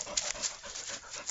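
A puppy pants close by during a game of frisbee outdoors: quick, breathy, rhythmic huffs in an uneven string, with a faint whimpery edge and no talking.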